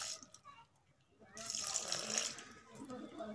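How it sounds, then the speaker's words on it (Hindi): Water splashes and pours into a bowl of semolina and sugar for halwa at close range, starting after a quiet moment and continuing steadily with a gurgling hiss. "ऊपर से थोड़ा सा पानी डालेंगे"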